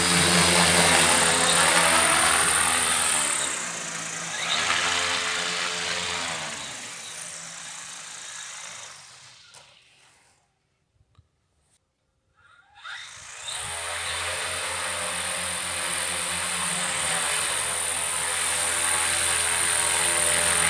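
An electric snowmobile whirs with a steady motor hum that fades into near silence mid-way, then surges back loud and continuous as it drives off in a cramped space with little room to speed up.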